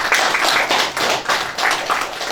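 Audience applause at an evening book exhibition and meeting in a library hall, a steady burst of many hands clapping close and fairly loud for a couple of seconds, without speech.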